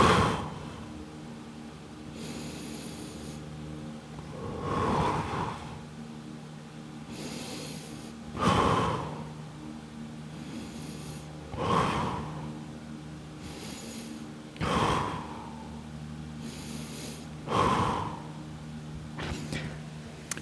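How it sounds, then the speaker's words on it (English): Forceful Lionheart breathing exercise done during stretching on a water fast, with sharp, loud exhalations roughly every three seconds, about six in a row, close to the microphone and separated by quiet, faint inhales, with no talking. "And then I start my Lionheart breathing."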